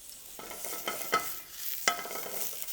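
Mushrooms frying in oil in a pan give a soft, steady sizzle, with a few brief scraping stirs and clinks of the utensil, fairly faint and without speech.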